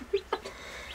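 Two short clucks from a chicken, close by, separated by a brief pause over a quiet background hum.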